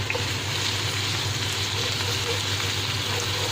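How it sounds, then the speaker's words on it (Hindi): Onion and ginger-garlic paste fry in a pan, giving a steady, close, even sizzle with no breaks for the whole stretch. "यहाँ प्याज और लहसुन अदरक का पेस्ट फ्राई हो चुका है।"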